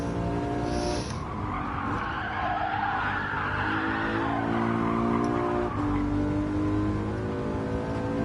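Lexus LC500 drifting at Watkins Glen in Gran Turismo 7, with a sustained loud tire squeal and skid layered over a steady engine drone, the squeal shifting in pitch as the car slides through the corner.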